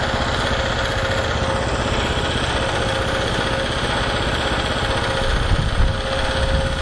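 Generator engine running on HHO, a steady close droning hum with a constant tone, continuing evenly throughout without pause and with no talking.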